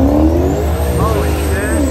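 A Fiat race car at an import drag race revs hard, its engine note climbing and wavering loudly up close amid other cars, with people talking over it.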